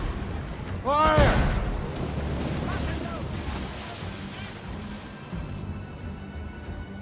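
Ship cannon fire in Assassin's Creed Rogue during a naval battle at sea: one loud booming shot with a whistling sweep early on, then lighter distant thuds over rolling wind and water, with shouted voices.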